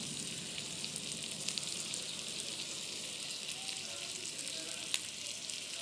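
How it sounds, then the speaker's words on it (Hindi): Tomatoes and onions fry in a pan for a homemade chicken shawarma, giving a steady, fairly quiet hiss of sizzling with faint crackles throughout and no talking. "टमाटर डालेंगे बीच में ताकि ये भी भुन जाए और पक जाए।"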